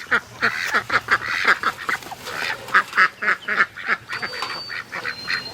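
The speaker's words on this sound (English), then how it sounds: "Come on, ducks, out you go." A group of ducks quacking close by, loud and repeated in quick uneven bursts, the calls overlapping with no let-up.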